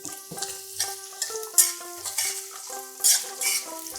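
Potato pieces and a handful of mung dal frying in a pan for a vegetable chorchori, with light sizzling and repeated stirring scrapes and clinks of the spatula against the pan, close and intermittent.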